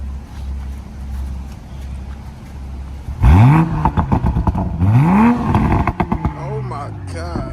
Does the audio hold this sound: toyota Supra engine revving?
yes